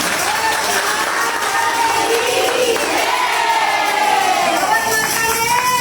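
Audience applause and cheering at a Gangaur festival celebration in a Jodhpur temple, a dense roar of clapping with excited voices and shouts from the crowd, loud and continuous throughout.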